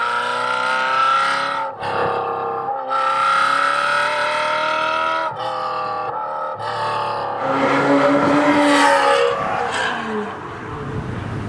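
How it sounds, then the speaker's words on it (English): A Ferrari 348 engine revs and accelerates, a loud, rising mechanical howl that climbs through the gears with brief lifts between pulls, heard up close and mostly alone. "Oh, that engine, it's much more responsive than mine."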